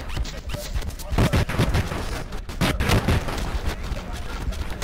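Rapid gunfire in the shooter game SMOD Outbreak, on the No Mercy, Last Man on Earth setting. Dense bursts of shots run throughout and build to heavier volleys in the middle.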